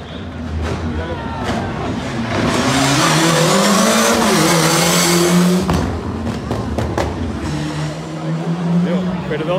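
A Porsche rally car at a rally time trial in Villa de Espiel roars past close by, its engine note swelling to a loud peak and then receding, with voices talking nearby.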